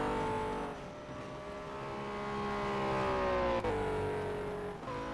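A race car in a racing video game set at Bahrain accelerates hard, its engine whining steadily upward through the gears, loud and continuous with a brief shift dip near the end.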